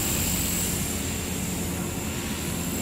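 A Walkera V400D02 six-channel flybarless RC helicopter flies in a tight outdoor area, its motor and rotors giving a steady, loud whirring drone with a thin high whine throughout and no pauses.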